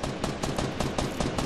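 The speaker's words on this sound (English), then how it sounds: "I was really hoping he wasn't shooting at us" Rapid bursts of gunfire from the Fortnite battle royale game, a steady rattling stream of shots at even intervals, fairly loud and continuous, with no talk.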